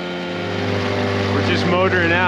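A motorboat motoring out on a river: a steady engine drone with a low tonal hum runs throughout, close and moderately loud, with a faint voice partly over it.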